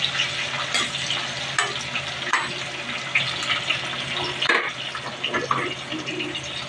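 Chopped onions sautéing in a pan for pakbet, a continuous close sizzle and crackle with scraping stirs and occasional clatter of a utensil, no talking.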